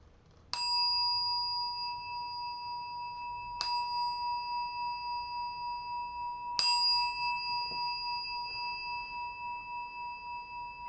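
A meditation bell is struck three times, each ring a clear, sustained chime that swells suddenly and fades slowly, the strikes spaced about three seconds apart in a quiet room.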